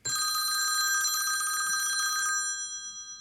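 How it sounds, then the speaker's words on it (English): Apple iPhone 'Old Phone' ringtone, an old telephone bell ringing in a fast metallic trill for about two seconds, then a ringing decay tailing off, loud and close. "Old phone."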